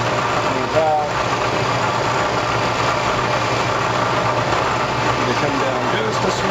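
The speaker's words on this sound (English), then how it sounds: "fly cut the top of this plastic. Now we're still at 1600 RPM." A milling machine fly cutting the top of a plastic block at 1600 RPM, giving a steady mechanical hum with a rhythmic cutting drone, close and continuous.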